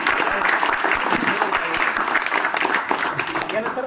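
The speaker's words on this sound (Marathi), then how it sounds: "फोटो घ्या सरांनी. जोरदार टाळ्या." Loud, sustained applause from a school gathering audience honoring a teacher, dense clapping filling the whole stretch without pause.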